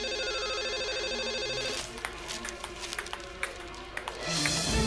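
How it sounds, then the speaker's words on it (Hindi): A telephone rings with a steady electronic tone for under two seconds in a Hindi drama episode, then gives way to faint clattering and scattered soft knocks at low volume. "चलो यार, अब देख भी लो किसका फोन है।"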